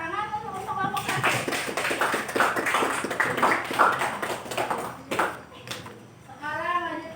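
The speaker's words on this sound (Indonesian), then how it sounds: "tepuk tangan untuk kelompok 1" A classroom group of students claps for a presenting team, a burst of dense hand-tapping lasting several seconds with children's voices and a teacher talking over and around it.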